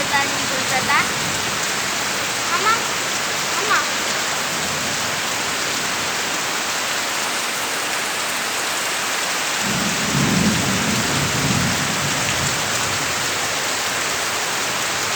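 Heavy rain roars steadily while a deep thunderclap rumbles in partway through and slowly fades, all without speech.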